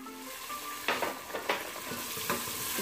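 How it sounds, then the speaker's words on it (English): Mixed vegetables stir-fried in a pan with ginger garlic paste for a shahi vegetable biryani, giving a steady close sizzle with a few sharp scraping stirs mixed in. "Stir fry them for a few minutes only."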